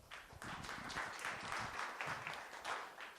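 An audience at a venture capital panel evening applauds, a soft but continuous patter of many hands clapping, heard from a distance and fairly quiet throughout.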